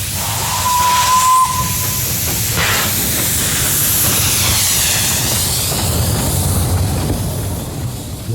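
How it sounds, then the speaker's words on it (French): Steam locomotive, loud and close, with a clear whistle blast near the start over a dense, continuous roar of hissing steam that carries on to the end. "la locomotive, lançant les imprécations de fumée,"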